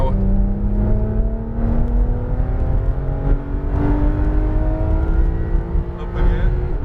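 A Porsche 911 GT3 RS engine accelerates at full power from inside the cabin, its pitch climbing steadily in one long pull and then stepping up again. A voice is partly heard under the loud engine.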